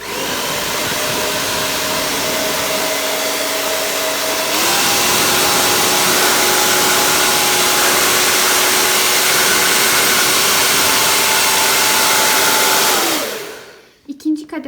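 A Powertec hair dryer runs on its first setting, a loud, steady whooshing blow with a tonal motor whine that shifts slightly partway through, then cuts off near the end.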